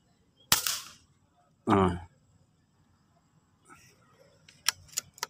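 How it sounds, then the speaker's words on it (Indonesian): A Crown MK2 air rifle fired at a 30-meter target, giving two sharp loud reports about a second apart, followed by a few fainter ticks and clicks in a quiet outdoor setting. "Tembakan ke 1, 2, 3, 4, kelima kali ya."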